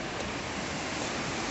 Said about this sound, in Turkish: Burada böyle bir şelale var. Şu anda ilkbaharda olduğumuz için karlar erimiş, onun suyu.